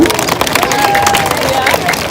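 An audience at a boat show applauds a skiing squirrel's performance, producing a steady crowd wash of clapping and cheering with light chatter mixed in.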